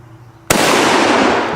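A single sharp gunshot cracks at close range, aimed at hanging bowling pins. The loud broadband blast follows a quieter lead-in and rings out briefly, with no voices.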